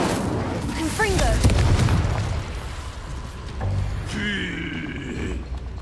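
Spell blasts from the Confringo fire curse in Hogwarts Legacy boom out in a loud, fast series of explosive hits, with whooshing magical effects and game voices shouting over them.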